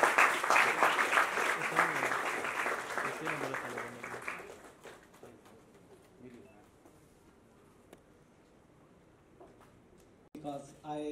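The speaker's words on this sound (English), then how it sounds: "Can we have a round of applause," An audience at a college award ceremony claps loudly for about four seconds, then the applause thins and fades into scattered claps beneath a voice speaking over a PA system.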